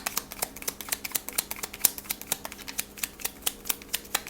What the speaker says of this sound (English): let me just do one more shuffle here